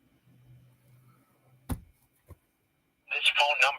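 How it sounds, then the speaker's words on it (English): A touch-tone phone beeps through dialing tones for a San Francisco 415 number of all eights; a faint hum and a couple of sharp clicks come before a burst of dial tones near the end. "And then we could dial all eights and see what happens."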